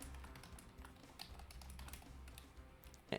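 Soft, rapid tapping on a computer keyboard, faint and close, in uneven bursts of keystrokes with no talking.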